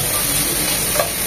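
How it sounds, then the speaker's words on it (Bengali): Carrots frying in oil in a pan while being stirred, a steady close sizzle with a small scrape near the end. "গাজরটাকে 1 মিনিট ভেজে নেব।"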